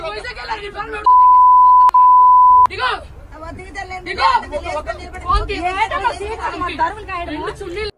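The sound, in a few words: censor beep over abusive speech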